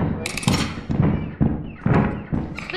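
Enemies in Lethal Company fire a run of about six heavy, close gunshots spaced roughly half a second apart, each a punchy thunk followed by a short decaying tail.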